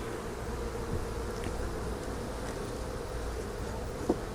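Bees buzz steadily around an open beehive during a varroa mite sugar roll check, a dense continuous hum that stays even throughout, with one brief sharp click near the end.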